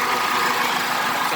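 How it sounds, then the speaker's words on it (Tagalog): Chevrolet Captiva engine idling after an overheating repair, a steady, even mid-to-low rumble with no breaks, close and fairly loud, with no talk over it. "umaandar yung makina niya"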